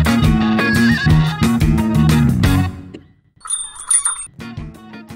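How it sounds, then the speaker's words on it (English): A bright bell-like entrance chime rings at a store door, a clear tone with high overtones sounding briefly after a stretch of music, near and moderately loud. "I can't wait to hear that chime"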